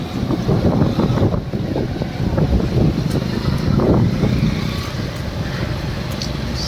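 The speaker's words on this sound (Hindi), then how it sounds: "साउंड से समझ में आ जाएगा आपको, कैसे गिर रहा है, कितना हवा चल रहा है" Strong stormy wind roars against the microphone in a loud, continuous rumble with gusting surges, heavy buffeting filling the whole stretch without a voice.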